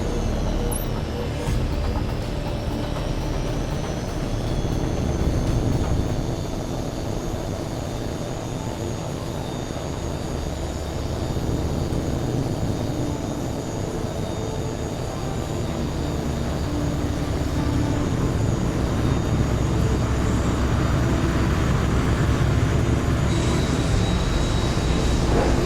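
A jet aircraft in Tom Clancy's H.A.W.X 2 on PlayStation 3 rolls for takeoff, its engines a loud, steady roar with a high whine running throughout, and no voices.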